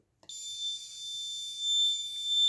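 A high-pitched electronic alarm buzzer on an Arduino-based RF receiver for an assistive blind stick switches on abruptly and sounds as a steady continuous tone, alone.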